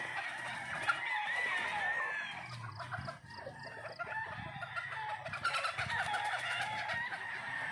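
White Kelso gamefowl roosters cluck and crow at a game farm, loud nearby crowing rising over a steady bed of clucking from many birds, with a second strong crow late on.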